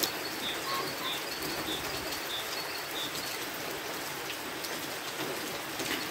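Heavy early-morning rain pours steadily onto surfaces outdoors in cold weather, a dense even hiss with scattered drops, and a bird calls faintly now and then in the background.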